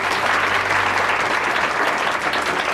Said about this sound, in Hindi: जोरदार तालियां आकांक्षा के लिए